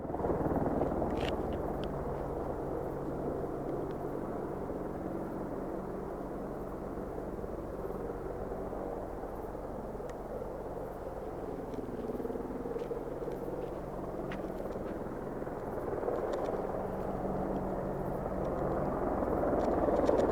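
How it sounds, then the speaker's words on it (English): A helicopter flies overhead at night, its low rotor rumble steady and fairly distant for the whole stretch, swelling slightly toward the end, with no voices. "now the helicopter's over here"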